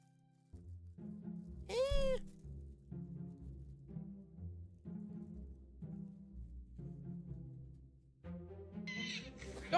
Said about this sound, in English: Don't do the screaming cat meme.